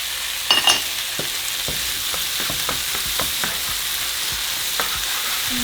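Minced garlic and tomatoes fry in a pan for arroz con pollo, a steady sizzle punctuated by repeated clicking scrapes of a utensil stirring, a sharper clatter near the start; nobody talks.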